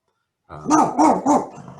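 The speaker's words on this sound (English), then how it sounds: "That's my dog in the background." A dog barks three times in quick succession, fairly close and loud, with rounded, even-spaced barks and no talking over them.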